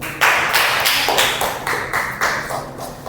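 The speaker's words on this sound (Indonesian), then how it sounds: "Beri tepuk tangan dulu" Students in a classroom clap together in a brisk, rhythmic unison pattern, loud and close, with even beats repeating for a few seconds and no talk.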